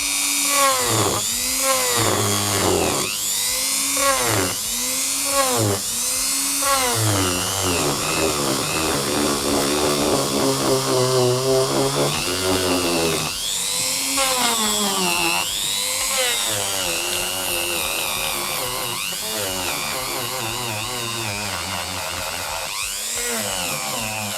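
A Procraft PG400 rotary engraver runs steadily for about twenty-four seconds, its high-pitched whine rising and dipping repeatedly as the speed changes, loud and close with no voices.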